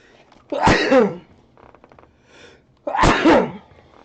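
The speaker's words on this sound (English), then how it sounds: "you guys haven't even done snuff yet, and you're sneezing" Two loud, close sneezes about two seconds apart, each a sharp burst with a breathy tail, with a quieter muffled noise between them in an otherwise quiet room.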